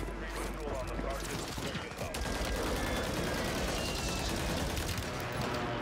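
Gunfire rattles through an online shooter match: a dense, continuous spray of shots and bursts, with a player's voice occasionally over the noise.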